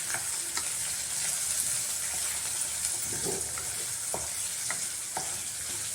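Onion and green chillies frying in a pan make a steady, dense sizzle with occasional scraping stirs and faint clinks, close and continuous throughout.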